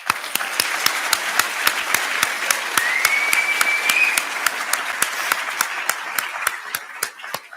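Steady applause fills a nursing lectureship ceremony as new Sigma members are congratulated, with many hands clapping and a few sharp, regular claps ringing out close by above the crowd.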